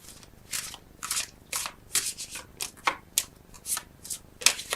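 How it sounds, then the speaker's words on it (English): Tarot cards are shuffled and drawn by hand, giving quick rhythmic riffling bursts and soft card slides close to the listener, with no speech. "I'm going to get 3 more cards on this wheel for you."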